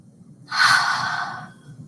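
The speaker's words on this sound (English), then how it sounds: "Let's take a breath here." A single deep breath taken during an outdoor yoga session, a soft airy inhale-exhale lasting about a second, close and clear over a low background rumble, with no talking.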